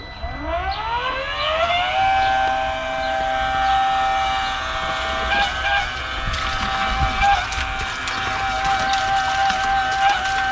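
A Ryobi 18V battery-powered water pump whirs up to a steady high-pitched whine and keeps running continuously, with faint splashing and clatter underneath.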